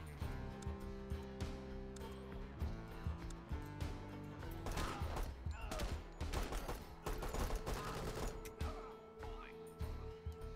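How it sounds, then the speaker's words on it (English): Gunfire in a tactical shooter video game, with bursts of automatic fire and scattered shots crackling over a low steady game soundtrack, moderately loud and irregular throughout. "Brownie's taking a little bit of gunfire, but we're okay."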